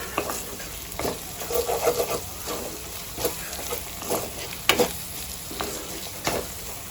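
Chicken masala with turmeric stir-fried in a kadai, with a soft continuous sizzle broken by repeated scraping strokes of a spatula against the pan at an irregular pace, close and clear.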